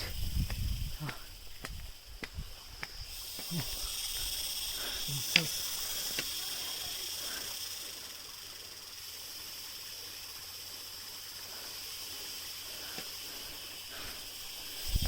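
A waterfall at Kapilash pours with a steady broadband hiss, while a few taps and voices come through early on before the rushing water carries on alone.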